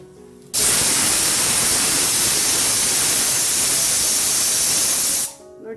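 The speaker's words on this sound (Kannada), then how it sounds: "ಮುದ್ದೆ ಆಗೋಷ್ಟರಲ್ಲಿ ಕುಕ್ಕರ್ ವಿಸಲು ಆಯಿತು ನೋಡಿ" A kitchen pressure cooker whistle gives one loud, steady rush of hissing steam that lasts about five seconds before cutting off, close and alone, with no talk over it.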